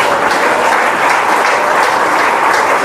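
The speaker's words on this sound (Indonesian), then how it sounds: "Kasih tepuk tangan kepada Tuhan." A church congregation claps loudly and steadily, a close, dense, unbroken wall of applause with no pauses.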